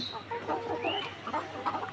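Young laying hens that have just begun producing eggs cluck and chatter in a dense, overlapping murmur close by, with a few higher squawks rising over the flock.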